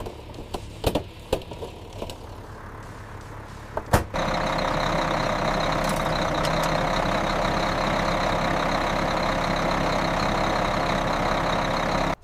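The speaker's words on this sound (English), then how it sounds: "What a great engine. Smooth, powerful, and sounding absolutely awesome now" An old abandoned bus engine at its first start, a few clunks and knocks, then a loud steady idle rumble that runs on evenly.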